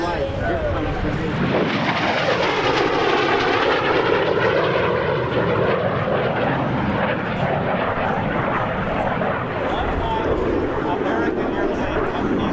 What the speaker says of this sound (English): here comes the MiG.